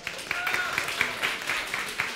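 An audience at a regional sobriety centre event claps in a quick, regular rhythm, sharp hand strikes landing about four times a second over a low murmur of the room.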